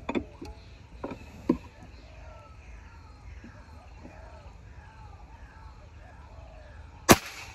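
Quiet outdoor background with a few soft clicks early on, then one loud, sharp shot from a Monster M3 air rifle rings out close by near the end.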